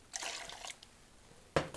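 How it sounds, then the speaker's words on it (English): Methyl hydrate pours into a container in two short bursts, a splashing trickle lasting about half a second, then a quiet pause before a brief second splash, close by and without speech. "So let's pour it in here."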